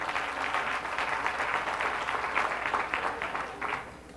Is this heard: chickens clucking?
no